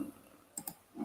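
A few quick keystrokes on a computer keyboard, typing a value into design software: two close clicks in the middle of a short, quiet stretch, with no talking.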